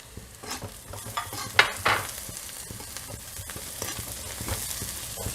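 Beans, carrot and potato stir-fried with softened onions for a vegetable kurma, close crackling sizzle with repeated spatula scrapes and stirs and a couple of louder bursts early on, no voices.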